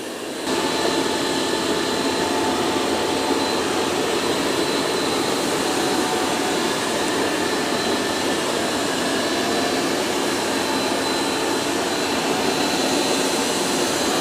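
A eufy X10 Pro Omni robot vacuum mopping, giving a loud, steady broadband whirring drone that starts abruptly and holds at a constant level close by.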